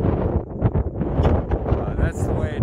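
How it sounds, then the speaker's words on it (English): Gusting wind buffets the microphone on Lookout Rock, a mountain lookout, in loud, uneven low rumbles, with a person talking through it. "Pretty windy up here."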